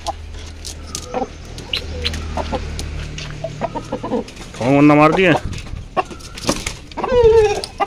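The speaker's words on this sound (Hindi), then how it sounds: "देखो असील फाइटर मुर्गे" Aseel fighter roosters cluck and call in short bursts, with a louder squawking outburst midway, while someone speaks briefly nearby.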